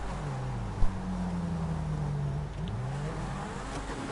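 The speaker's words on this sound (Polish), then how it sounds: "Auto mi prawie zgasło." A pink car's engine in GTA drones steadily with a wavering low pitch that dips and rises as it nearly stalls, with one brief thump early on.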